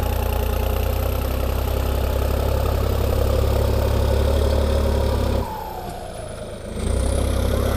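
Turbocharged diesel engine of a TT3.50 truck idling steadily, heard close from the truck's left side, a loud continuous low rumble with a constant whine; it drops briefly near the end and then returns.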